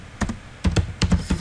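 Keys clatter on a computer keyboard as HTML script code for a jQuery and CSS carousel is typed, coming in four short close bursts of quick keystrokes, with no talking.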